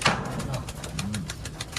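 A pigeon gives a brief, low coo amid background noise and faint rhythmic ticking, with a voice nearby.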